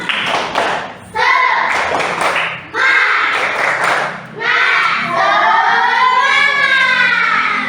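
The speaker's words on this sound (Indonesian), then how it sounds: "Coba tepuk semangat" Schoolchildren doing a rhythmic spirit clap in class, loud patterned bursts of claps alternating with their chanting voices, close and energetic.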